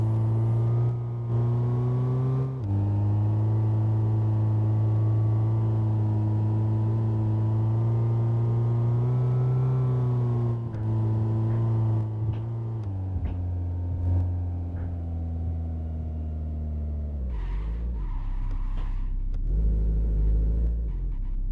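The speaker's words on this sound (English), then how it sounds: "Oh, the car can't get up the hill" A video game car engine strains up a hill, a loud, steady low drone that holds pitch for a long stretch, then shifts and sags lower near the end, with no talk.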